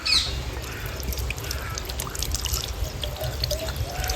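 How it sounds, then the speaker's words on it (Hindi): Water pours and trickles in a steady stream for several seconds, close up, with faint background clatter and a brief bird-like squawk at the start. "पानी डाल रही हो?"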